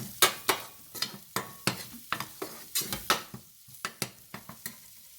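A spoon scrapes and taps a pan again and again in a quick, uneven rhythm while asafoetida powder fries in oil for drumstick leaf rasam, with a soft sizzle between the strokes.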